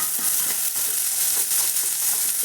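Food frying in a pan, a bright continuous sizzle with faint crackles and occasional stirring, close and steady with no talk.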